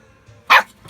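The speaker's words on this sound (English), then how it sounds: "and our new doggy." A new pet dog at a lake gives a single sharp, loud bark close by, preceded by quiet low rumbling and followed by a faint trailing sound.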